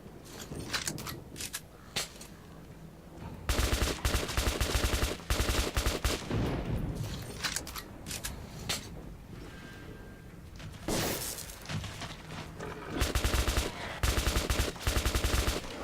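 Repeated bursts of weapon fire ring out in the post-apocalyptic shooter Metro 2033, with loud rapid volleys and automatic rattles separated by short pauses and quieter game ambience.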